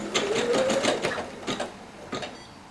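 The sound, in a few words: Brother embroidery machine stitching an appliqué patch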